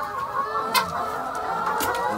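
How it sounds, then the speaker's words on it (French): About forty laying hens cluck steadily in a henhouse compartment on a Brazzaville poultry farm, a dense, continuous chorus of overlapping calls with a few louder squawks rising above it. "Ici nous avons une quarantaine de poules pondeuses."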